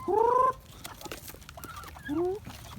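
Backyard chickens cluck and call softly near by while eating feed, with a few short vocal bursts over low rustling and background noise.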